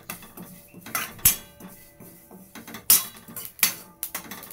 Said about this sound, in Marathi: मी आता थोडेसे तीळ पण भाजून घेते